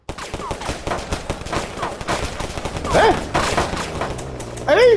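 Rapid gunfire in the Roblox game Tha Bronx 2 played on PS5, dense overlapping shots throughout at steady loudness, with a voice calling out briefly near the end.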